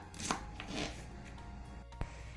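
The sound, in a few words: chopping colocasia stems into pieces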